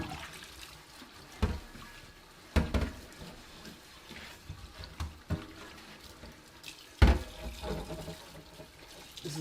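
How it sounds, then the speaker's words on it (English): Water runs from a tap while a dirty vintage cast iron skillet is washed under it, giving a steady splashing stream with irregular knocks and sloshes as the pan is handled. There is no talking. "Wash it once with hot water and soap."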